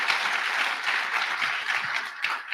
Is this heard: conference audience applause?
yes